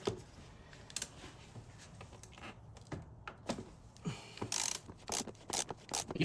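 A ratchet clicks in quick bursts as the oil filter housing on a 2013 Mini Cooper S is loosened, sharp metallic pawl ticks close by, separated by short pauses.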